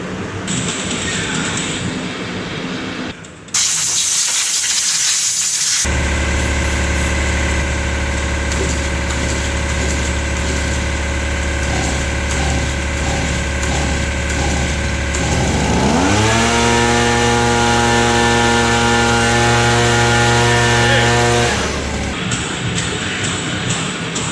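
An Echo EG85 two-stroke backpack blower, old and varnished, fires up after a sharp pull and settles into a loud, steady engine drone, then revs higher near the end before dropping back.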